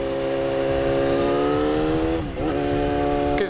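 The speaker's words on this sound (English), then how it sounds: "I think it's an MX-5." A Mazda MX-5 drives past nearby, its engine note holding steady and then dipping sharply as it goes by, loud and alone with no voices.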